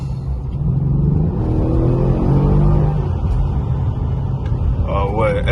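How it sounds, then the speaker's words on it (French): A Mercedes CLS 63 AMG accelerating hard, heard from inside the car as a deep, rising engine rumble that settles into a steady drone, with someone talking over it. "elle te propulse comme jamais cette voiture là"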